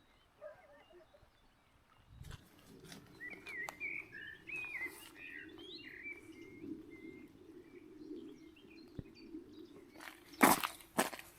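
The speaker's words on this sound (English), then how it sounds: "The sounds of nature. Birds," Birds chirp and warble in the distance over steady outdoor ambience, with crunching footsteps on the ground and a few rustles near the end.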